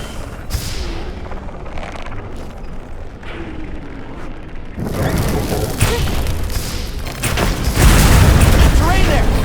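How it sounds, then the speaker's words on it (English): A planted bomb detonates in Monster Hunter Wilds, a heavy booming blast that swells partway through and stays loud and rumbling amid dense game action and music. "I set a bomb."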